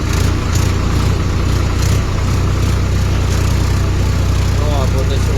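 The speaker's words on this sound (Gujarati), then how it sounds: "ટ્રેક્ટર આટવાયા છે મદદ કરો." A stuck tractor's engine runs in a loud, steady, low droning rumble that holds without a break.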